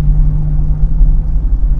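A car moving slowly along a street gives a steady, loud low rumble and engine drone that holds evenly throughout, with no voices.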